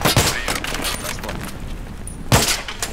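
Battlefield 3 combat gunfire, sharp bursts of shots and a sudden loud blast near the end ringing over a noisy battlefield backdrop, with some talk mixed in.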